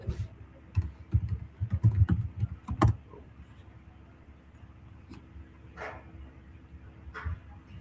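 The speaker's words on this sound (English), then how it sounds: "So I'm currently just typing in something." Computer keyboard typing, a quick burst of close, crisp key clicks that thins to a few scattered taps, over a low steady room hum.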